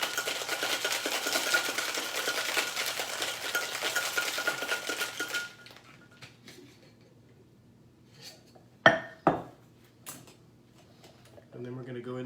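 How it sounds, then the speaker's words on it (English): A cocktail shaken hard with ice cubes in a shaker, a dense, loud rattling of ice that runs steadily for about five seconds and then stops, followed by a quiet stretch with a few sharp knocks and clinks. "And then we're going to give this a good hard shake"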